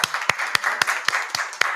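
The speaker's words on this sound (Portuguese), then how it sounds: "Uma salva de palmas, então," Audience applause at the close of a certificate and book presentation during a state education committee session. Brief, steady clapping with a few sharper claps standing out, moderately close, with no speech.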